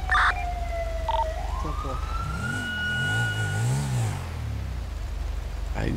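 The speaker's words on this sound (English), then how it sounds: "I just cut a siren off like that." Police car siren in a video game, a wailing electronic tone that sweeps then cuts off, followed by engine hum and a low rumble, with faint talk in the background.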